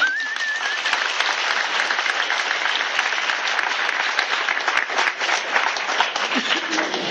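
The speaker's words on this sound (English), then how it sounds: "there's some of those folks in this crowd, so let's give them a hand too" A crowd at a CrossFit Faith gathering during the 2012 Central East Regional event applauds loudly and continuously, a dense sustained roar of clapping with a voice briefly audible at the start.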